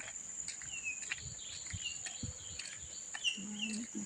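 Birds sing with scattered short chirps and whistles in a forest, set against a steady high insect drone. The whole scene is faint and distant, with a few soft low thumps.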